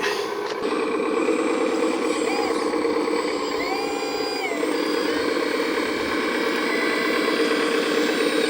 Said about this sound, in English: Now I can bring the loader in and scoop all this up and run it through the plant